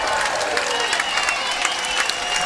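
A crowd at a pickleball match at the U.S. Open claps and cheers in a steady, dense wash of sound that lasts throughout, fairly loud and sustained.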